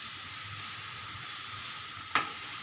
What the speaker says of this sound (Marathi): गॅस बारीक ठेवायचा आणि जवळजवळ 4 ते 5 मिनटं तरी हा छान परतून घ्यायचा, म्हणजे गूळ पण मिक्स होईल